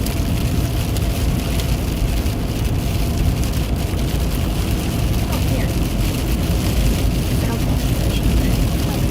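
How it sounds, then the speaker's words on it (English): Sleet falls steadily during a winter storm along a Kentucky interstate, a dense, continuous hiss of pellets striking the vehicle, blended with road and engine rumble and holding at an even, loud level throughout. "Sleet is yucky."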